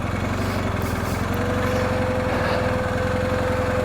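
An adventure motorcycle engine runs steadily at low revs while the rider practices right-hand turns, with a loud, close, constant drone and no talking.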